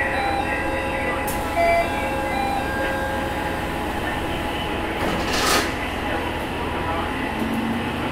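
Steady low rumble of a Matsuura Railway MR600 series train running along the tracks in Japan, with a constant mechanical drone and occasional brief hisses, no talking.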